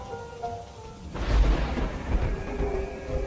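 Cartoon thunderstorm effect: a loud thunder boom bursts in about a second in and rolls on under steady heavy rain, with a faint tonal background before the crash.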